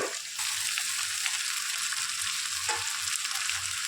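Dry-roasted peanuts tipped into vegetables already frying in a pan for sago pulao, giving a steady, close, loud broadband sizzle that holds throughout with a slight shift near the start.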